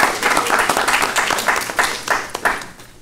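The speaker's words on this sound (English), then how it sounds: "So let's give them a big hand, a round of applause." An audience at a Santa Monica city council retreat gives a round of applause, a full, continuous clapping from many hands that swells and eases slightly across three seconds, with no talk over it.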